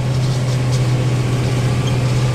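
A tractor engine drones steadily from inside the cab while mowing on a farm, a loud constant low hum with no breaks.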